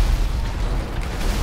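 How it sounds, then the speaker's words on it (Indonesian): Sustained heavy rumbling blast in the GTA V video game after blowing up a huge tank, a dense low boom filling the whole stretch with steady loudness and no voices. "Kita ledakin sampai rusak gamenya"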